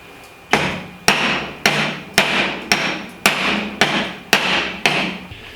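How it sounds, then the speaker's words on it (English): Ten evenly spaced, sharp hammer taps seat a pinion seal into a GM 10-bolt axle housing during a rebuild. Each loud, close metallic strike rings briefly before the next, with no talking. "I'm gonna tap that into place before I throw my yoke on and throw the pinion in."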